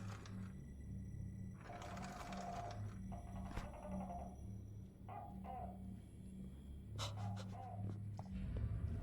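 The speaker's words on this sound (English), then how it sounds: "After you escape Belle, you have to pull on this rope here until a bucket with pincers or bolt cutters rises up to your reach" Creaking rope pulley hauling a bucket up in the horror game Home Sweet Home, a run of soft ratcheting mechanical clicks and squeaks in short bursts over a low droning ambient bed.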